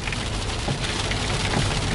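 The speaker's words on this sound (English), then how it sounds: "Really raining, oh my god. This is heavy, dude." Steady heavy rain pours down in a torrential downpour near a river in West Virginia, a dense continuous patter close by with no voices.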